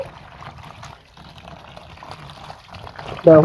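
A pot of water comes to the boil with faint, sparse bubbling and a soft simmer, ending in a brief louder clatter.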